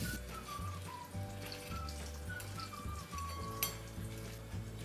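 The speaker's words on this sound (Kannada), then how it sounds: "ಈಗ ಪುದೀನ, ಕೊತ್ತಂಬರಿಯನ್ನು ಸಹ ಫ್ರೈ ಮಾಡಿಕೊಳ್ಳಬೇಕು." Mint and coriander fry in hot oil in a pan, a soft, steady sizzle running continuously, with faint whistling tones and a low hum underneath.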